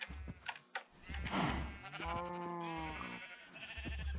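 Sheep bleating in Minecraft, a clear, wavering, fairly close bleat that sustains for a moment amid soft game sounds and light clicking.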